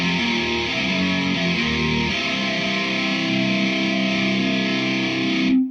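Distorted electric guitar holds a single chord with a few picked notes at the start, ringing sustained and loud through effects for several seconds before cutting off abruptly, no voices.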